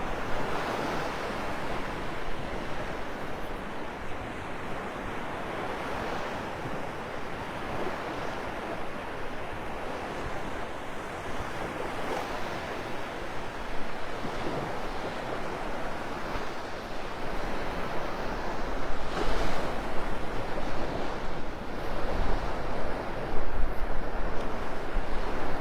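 Shallow surf breaks along Vanderbilt Beach in North Naples, Florida, a steady, loud wash of waves with wind buffeting the microphone throughout.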